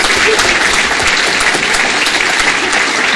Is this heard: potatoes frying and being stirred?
no